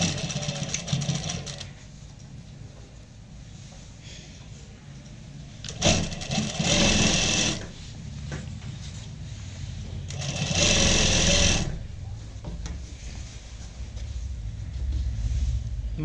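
A sewing machine stitches a readymade belted saree in two bursts of rapid, steady whirring, each lasting a second or two, separated by quieter handling noise.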